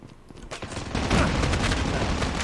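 A frag grenade and gunfire in the mobile shooter COD Mobile, ranked team deathmatch: a dense, loud burst of blasts and rapid shots that swells after a quieter start and stays sustained.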